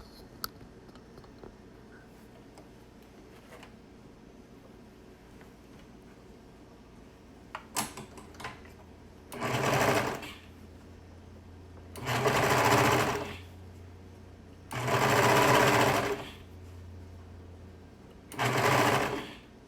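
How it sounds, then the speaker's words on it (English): A sewing machine stitches seams on a knit dress in four loud, close bursts of rapid whirring, each lasting one to two seconds, with quiet pauses and light clicks between them. "then I'm going to sew it down"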